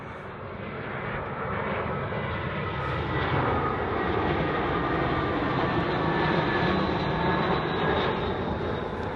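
A fixed-wing airplane passes overhead outdoors, its steady broadband engine roar building gently and holding loud and continuous throughout, with no talking.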